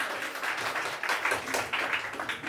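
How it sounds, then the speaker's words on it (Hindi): Guests clapping at a family sangeet celebration, a lively crowd applause with rhythmic bursts and swells, fairly close and loud. "एक बार जोरदार ताली हो जाए सभी।"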